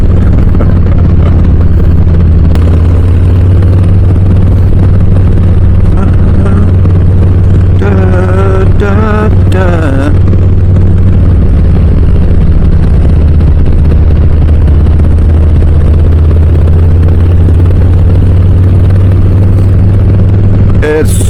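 A Harley-Davidson Low Rider S motorcycle rumbles in a loud, steady drone while riding through twisty roads, mixed with wind rush, and a voice speaks briefly partway through.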